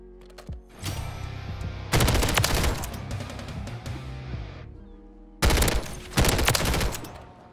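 A light machine gun in a video game fires in long, loud automatic bursts. Short pauses separate the bursts, and a final volley comes near the end.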